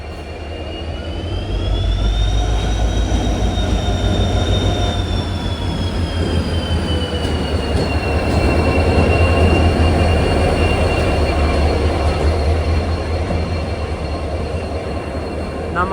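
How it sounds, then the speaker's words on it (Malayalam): A railway locomotive moves in slowly to couple onto a passenger train at a station, its loud, steady engine rumble and drone continuing throughout with a high tonal whine and faint wheel squeal. "അങ്ങനെ റിമൂവ് ചെയ്ത് ലോക്കോമോട്ടീവ് വരികയാണ്."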